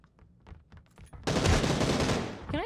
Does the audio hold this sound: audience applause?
no